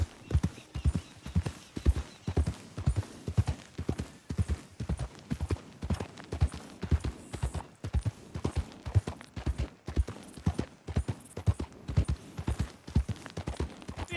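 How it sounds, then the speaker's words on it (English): Horse hooves clip-clop at a steady walking rhythm on a road in the video game Red Dead Redemption 2, with repeated even strikes and no talk over them. "That's a nice horse."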